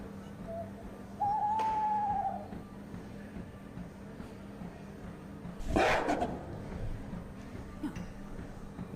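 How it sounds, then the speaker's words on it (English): An owl call plays back from a recording, a short hooting note followed by a louder burst, faint and a little distant against quiet room noise. "Yeah, this is a different kind of owl."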